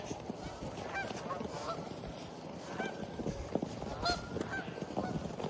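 Geese honk intermittently, several calls scattered over a noisy outdoor background, fairly faint and somewhat distant.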